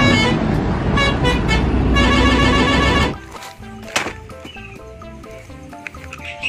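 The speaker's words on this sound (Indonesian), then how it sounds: "lihat mobil tangki Pertamina." A toy Pertamina fuel tanker truck sounds a loud, sustained horn toot for about three seconds, followed by quieter electronic beeps and a single sharp ping.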